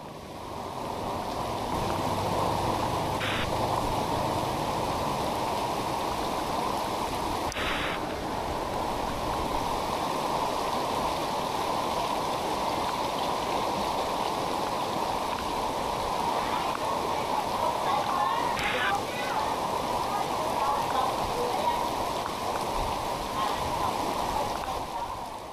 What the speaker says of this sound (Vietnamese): Mưa lớn ngập nước như thế này